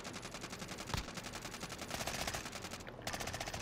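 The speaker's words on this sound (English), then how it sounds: "Shoot through the wall." Sustained automatic gunfire in the battle royale shooter Warzone, aimed through a building wall, a fast rhythmic stream of shots that stays steady and fairly loud throughout.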